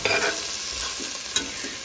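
Spiced potatoes and rice with black peppercorn and green cardamom are stirred and sautéed in a hot pan, giving a continuous close sizzle with short scraping stirs.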